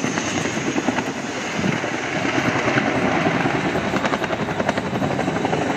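A Chinook helicopter flies at an RAF display, its loud, heavy rotor thumping and engine roar filling the air continuously and close overhead.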